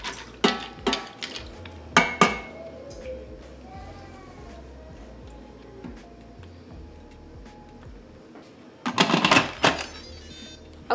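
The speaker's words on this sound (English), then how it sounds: "I'm going to give that a stir really quick" Seasonings and butter being stirred in a pressure cooker pot for mac and cheese: a few hard metallic clanks and scrapes at the start and again near the end, with a quieter gap of low handling noise between.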